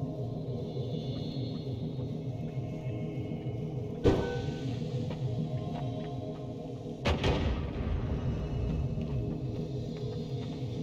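Bombs go off in Noita, two sharp blasts a few seconds apart, each with a crack and a rumbling tail, over a low, busy mechanical churn.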